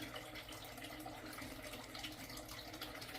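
Water trickles onto dry potted plants in a steady, faint, continuous pour of running liquid with no distinct splashes.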